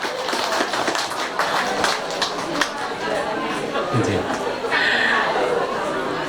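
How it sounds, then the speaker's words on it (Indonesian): An audience at a school principal's handover ceremony at SMAN 1 Wonosari gives a round of clapping for a performing group, scattered and fairly soft under steady chatter and talk. "tepuk tangan sekali lagi untuk mereka"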